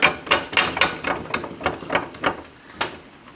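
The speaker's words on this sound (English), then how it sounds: "we're going to clamp this in gently" A vise clamps a leaking power steering line, giving a series of sharp metallic ratcheting clicks, about a dozen in a fairly even rhythm, close and moderately loud with no voices.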